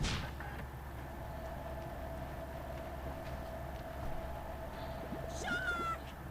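A cat meow sound effect in the You Don't Know Jack quiz game, one short meow near the end over steady background noise and a faint opening click.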